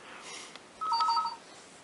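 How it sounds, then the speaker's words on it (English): A phone rings briefly in a quiet room, a short two-tone electronic trill of about half a second standing out over faint background hiss. "Sorry about the telephone."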